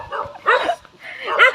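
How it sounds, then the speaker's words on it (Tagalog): A dog barks in two yapping bursts at moderate distance in a rural cornfield setting, with a short pause between them. "Limutan ko. May aso guys."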